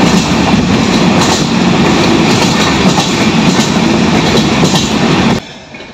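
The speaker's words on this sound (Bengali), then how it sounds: "গয়া স্টেশনের ওপর দিয়ে এখন রাঁচি পাটনা জনশতাব্দী এক্সপ্রেস পাস করছে" Ranchi-Patna Jan Shatabdi Express passing through Gaya station, a loud, steady rumble of rolling carriages with rhythmic clickety-clack of wheels over rail joints close by, cutting off abruptly near the end.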